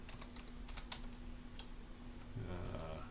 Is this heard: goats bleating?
no